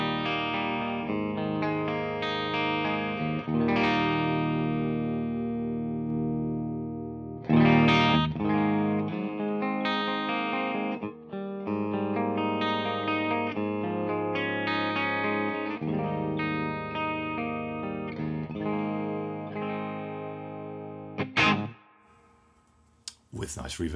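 Electric guitar played through the clean channel of an AmpliTube Mesa Boogie Triple Crown amp plugin, with chords and single notes ringing out with reverb, then a strum fading into near silence.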